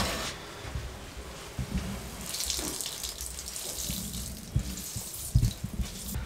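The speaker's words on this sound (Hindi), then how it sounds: "कद्दूकश किए हुए लौकी, और इसको अच्छे तरीके से निचोड़ देंगे" Water squeezed by hand out of grated bottle gourd in a kitchen, a wet trickling and splashing into a vessel with occasional soft squelches and thumps, close and continuous.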